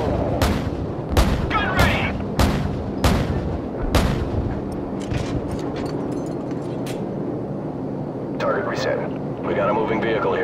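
Call of Duty 4: Modern Warfare gunfire: a run of loud, evenly spaced shots cracks out over a constant battle rumble, then thinner bursts and crackling later, with voices talking through it.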